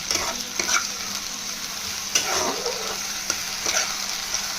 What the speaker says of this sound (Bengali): রসুন দিয়ে কষার পরে একটু একটু জল দিয়ে কষবো, যাতে রসুনের কাঁচা গন্ধটা চলে যায়